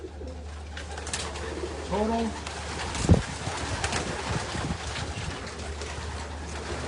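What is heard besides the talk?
racing pigeons cooing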